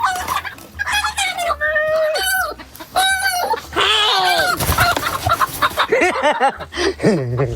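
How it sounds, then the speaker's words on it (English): Chickens cluck and squawk in a busy, overlapping chorus, close and loud, with a few higher calls and brief voices mixed in. "chicken noises"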